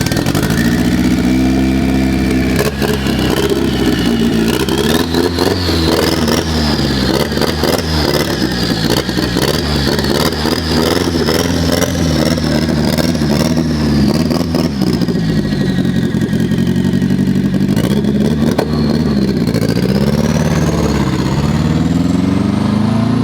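A Nissan S13 240SX coupe with a CA18DET engine runs loud and close for the whole stretch, its revs climbing and holding in long pulls, then easing off and rising again, with no voices over it.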